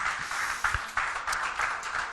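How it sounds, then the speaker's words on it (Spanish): A church congregation applauding together: a steady wash of many hands clapping at an even level, with no voices over it. "Si quieres, darle tu aplauso al Espíritu Santo."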